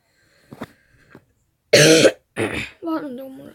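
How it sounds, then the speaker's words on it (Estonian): Several coughs and throat clears from a person, close and loud, with a brief pause between bursts and a strained, voiced cough at the end. "Ma siin natukene köhin, oodake korraks, ma panen korraks pausile ja ma köhin ära."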